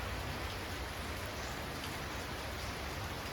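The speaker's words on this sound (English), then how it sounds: "Rainy day." Steady rain pours on a wet morning in a garden of exora shrubs, a dense, even hiss of drops on surfaces with no break or voices.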